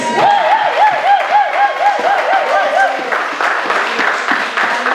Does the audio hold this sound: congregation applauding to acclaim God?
yes